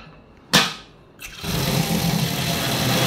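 Twin pipe water pump started for a test at a house, a sharp click then the motor whirs up and keeps running steadily and loudly.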